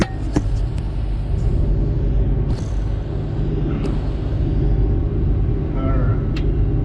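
A combine harvester's engine rumbles steadily at close range, its low drone holding throughout with slight throttle changes, while a voice talks over it and a few brief clicks and squeaks come from the machine.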